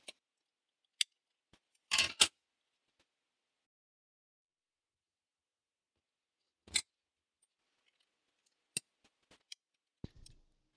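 Scissors cut out pieces of a 3D printed card kit, giving sparse, crisp snips and clicks separated by long silences, one louder double cut near the start and a few lighter snips later.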